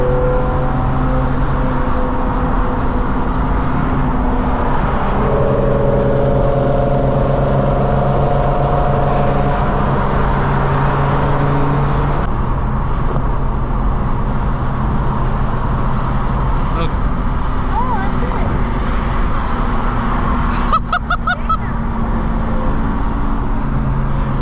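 A 500 HP turbocharged Infiniti G35 drives along with a steady, loud engine drone and road noise throughout, heard from inside the car, with a brief rise in pitch near the end.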